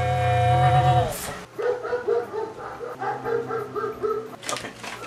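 A loud low whine or howl opens, then a rhythmic run of repeated dog barks and yips, close by.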